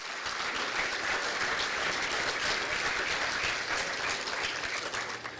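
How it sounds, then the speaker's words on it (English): Sustained applause from an audience at a small-town queen's pageant as the Little Miss and Mister contestants leave the stage, dense and even throughout. "Big round of applause for all of them."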